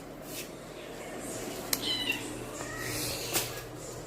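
A pet cat meows a few times at close range in a home, short mewing calls over a low steady background hum with a faint voice nearby.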